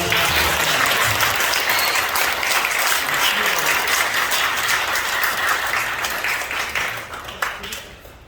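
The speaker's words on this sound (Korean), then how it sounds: "한번 깊이 감사의 박수." Dense, sustained applause from a large audience fills a hall at a church-led August 15 gathering in Yangcheon Culture Center, steady and loud for about seven seconds before tapering off at the end.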